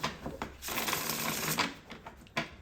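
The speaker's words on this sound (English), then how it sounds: "Right, I want to shuffle here" Close riffle of tarot cards being shuffled, a quick papery flutter with a few short taps and slides, no speech.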